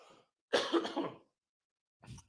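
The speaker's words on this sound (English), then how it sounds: "Cough." A single loud, harsh cough burst close up, followed after a pause by a shorter, quieter cough.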